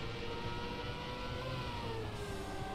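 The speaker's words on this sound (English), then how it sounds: "listen to the engine." A car engine in the Trackmania racing game drones steadily at high pitch throughout, with layered harmonic whine and no talking.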